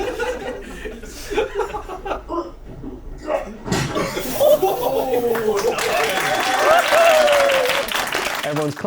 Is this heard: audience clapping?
yes